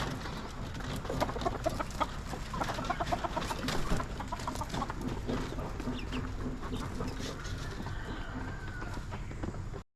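A flock of chickens clucks busily as they are let out of their coop, overlapping clucks and scratchy movement close by, continuous for about ten seconds before it cuts off.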